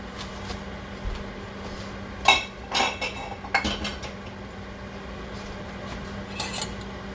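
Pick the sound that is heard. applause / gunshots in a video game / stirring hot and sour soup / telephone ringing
stirring hot and sour soup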